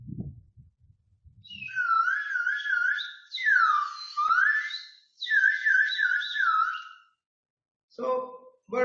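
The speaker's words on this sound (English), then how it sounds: "So bird sounds we can make with this." A hand-played percussion instrument made for birdsong effects produces warbling, trilling chirps in three bursts, bright and close, between brief bits of speech at the start and end.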